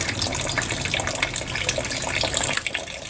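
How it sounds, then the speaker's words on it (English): Continuous water drips and splashes down into a bucket steadily, a dense watery hiss with no pauses and no voices. "You can hear the water is dripping, but it's dripping down on a bucket."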